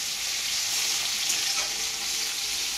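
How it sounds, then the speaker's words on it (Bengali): Onion and tomato fry in a pan, ahead of chicken being added, giving a steady close sizzle with a faint stir or two and no voices. "তারপর চিকেনটা দিয়ে ভাজবো।"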